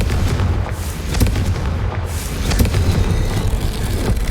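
Incendio and Confringo spells cast in the Hogwarts Legacy video game, a rapid string of loud booming fiery blasts and crackling impacts layered over a dense rumbling backdrop.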